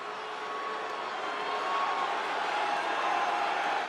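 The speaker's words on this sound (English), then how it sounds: "Just listen to this hot crowd," A sold-out wrestling event crowd roars and cheers, a continuous, distant-sounding wash of voices that swells slightly toward the end, moderately loud and unbroken.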